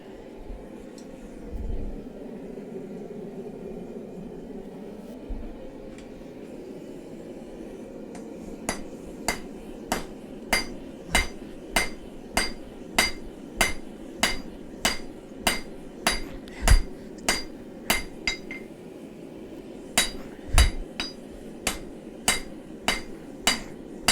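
Steady hammer blows ring out on hot steel as a karambit blade is forged, a long run of evenly spaced, sharp metallic strikes after a quieter opening.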